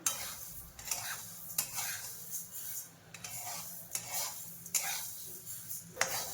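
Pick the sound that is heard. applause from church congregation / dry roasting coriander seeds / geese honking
dry roasting coriander seeds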